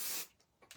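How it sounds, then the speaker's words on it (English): 505 adhesive fabric spray is sprayed for crumb quilting: a short, close aerosol hiss, then silence and a few faint clicks. "505 spray, or the adhesive fabric spray of your choice."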